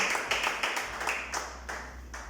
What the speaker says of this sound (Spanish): aplauso al Señor, aleluya